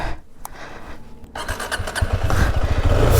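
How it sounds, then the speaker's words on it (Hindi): KTM 250 Adventure motorcycle engine starting: a short cranking burst, then the engine catches and settles into a loud, steady, close rumble. "starting your engine,"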